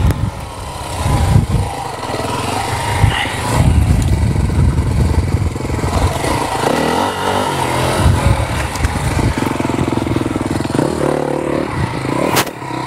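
Enduro motorcycle charging up a hill climb on an extreme enduro course, engine roaring at full throttle then easing off, loud and close with mechanical clatter and no talk.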